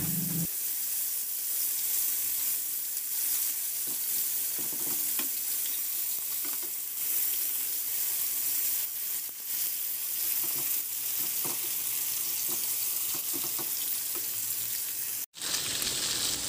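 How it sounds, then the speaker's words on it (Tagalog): Chicken wings fry in hot oil in a pan with a steady, dense sizzle and scattered pops and crackles, continuous and fairly close, cutting off briefly near the end. "Magpainit na rin ako ng mantika sa kawali at iprito ko na yung chicken wings."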